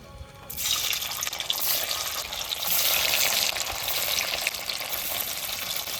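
Paneer fries in hot oil in a pan, a loud, steady hiss and crackle that runs unbroken and close up for several seconds, with no one speaking.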